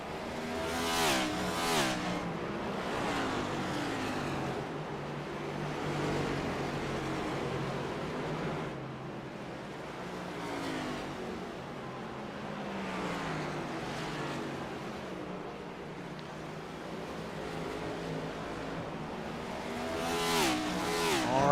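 Race cars lap North Wilkesboro Speedway, their engines rising and falling in repeated passes with high-pitched whining sweeps as cars come by, loud and continuous without talk.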